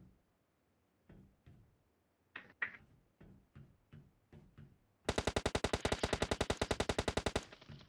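Gunfire in the mobile battle royale game PUBG Mobile: scattered single shots at first, then a rapid, loud burst of automatic fire lasting about two seconds, with no speech.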